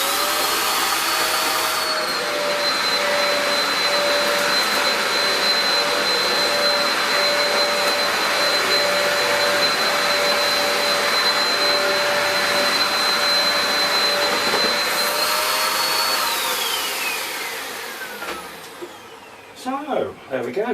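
A Dyson DC03 upright vacuum cleaner runs after a motor replacement, its loud steady whine holding a constant pitch before the motor is switched off and winds down, with a few clunks at the end.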